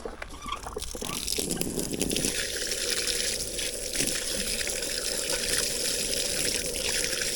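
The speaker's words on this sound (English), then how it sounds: "go to your water spigot, just rinse it out real good before you put it in the salt water." Water gushes from an outdoor spigot over a fresh trout being rinsed before brining, a steady broadband splashing rush that runs continuously and close up throughout, with no talk.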